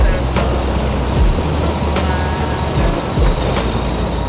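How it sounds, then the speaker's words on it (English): Airliner engines roar at takeoff, a loud, steady, low rumble heard from the cabin with occasional bumps and thumps as the aircraft gathers speed. "Not the smoothest takeoff"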